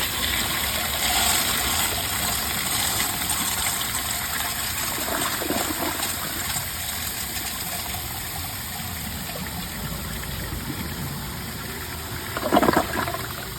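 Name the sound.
Proflo Jerritt toilet flushing with overfilled tank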